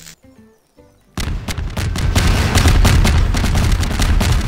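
Barrels blow up in Garry's Mod after a quiet opening, a sudden loud blast at about one second followed by a dense, continuous rumble of further explosions and crackling debris.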